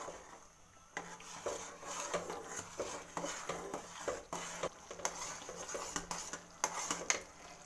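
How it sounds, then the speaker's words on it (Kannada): A pan of grapes halwa being stirred with a spoon, metal scraping and clinking against the pan in a steady, irregular rhythm with soft sizzling underneath, close and clear. "ಈ ರೀತಿ ತಿರುಗಿಸ್ತಾ ಇರಬೇಕು"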